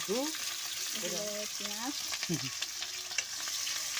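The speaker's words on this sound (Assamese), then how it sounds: "এইফালে তেলটো গৰম হোৱা নাই, হ'ব আৰু পিঁয়াজটো দি চাওঁচোন হ'ল।" Onion fries in oil in a pan, a soft steady hiss of sizzling with occasional stirring scrapes, heard under intermittent bird calls in the background.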